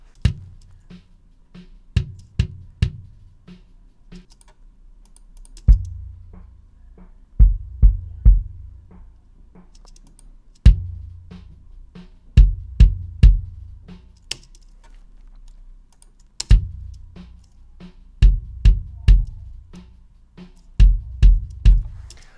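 Deep kick drum hits thump in short clusters with pauses between, captured through sub and inside mics, boomy low-end and sharp attacks, played alone and recorded close.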